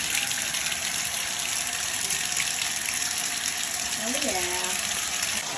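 Water rushes steadily down a freshly cleared bathroom sink drain in an NYC apartment, a constant close gushing, and a voice speaks briefly over it.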